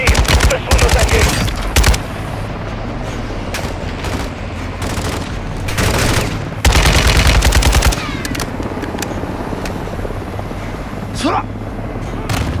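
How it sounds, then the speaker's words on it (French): Machine-gun fire in Call of Duty: Modern Warfare II, loud rapid bursts alternating with sustained rattling fire and distant battlefield noise, continuing for over twelve seconds. "Une mitrailleuse devant toi."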